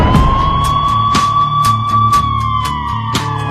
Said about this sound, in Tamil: ஆம்புலன்ஸ் வழி விட்டுருங்கப்பா